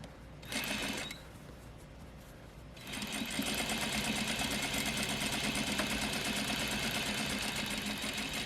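A sewing machine stitches across a double welt pocket, starting with two short bursts and then running steadily and close for several seconds with no talking.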